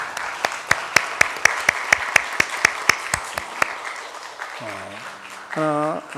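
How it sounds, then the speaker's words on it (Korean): A church congregation claps in thanks for the volunteers who disinfect the building, sounding first as loud separate rhythmic claps that fade into softer murmuring, followed by brief sung or spoken tones at the end. "이분들을 위해서 한번 감사의 박수를 한번 하겠습니다"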